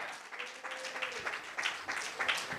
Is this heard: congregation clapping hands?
yes